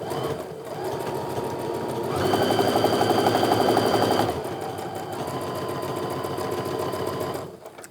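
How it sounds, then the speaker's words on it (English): A sewing machine stitches along the other side of a drawn line on a quilt seam, running in a continuous loud hum with a brief faster burst in the middle before stopping. "now this time we're going to sew down the other side of that drawn line"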